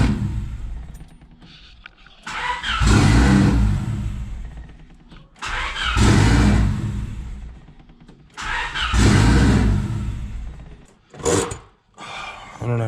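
A turbocharged Honda Civic D16Y8 engine on its first start cranks and catches in three loud surges of revving, each rising then dropping off, with brief quieter gaps between.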